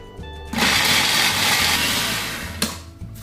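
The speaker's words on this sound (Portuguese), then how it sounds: "Como eu tenho um processador aqui e é mais rápido, eu faço no processador." Food processor chopping walnuts, motor starting after a short pause and whirring loudly and steadily with the nuts rattling inside, then a brief knock near the end as it winds down.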